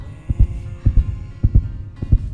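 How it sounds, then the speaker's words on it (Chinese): Heavy, low heartbeat thumps from a drama sound effect, four quick lub-dub pairs in a steady, racing rhythm, close and loud over a faint hum. "你的心跳怎么都快150了？"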